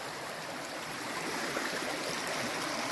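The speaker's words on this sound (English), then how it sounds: "That's a lot of water. And that is the whole creek" An entire creek diverted onto a street rushes past in a steady, broad wash of flowing water, moderately distant and unbroken, with no voices.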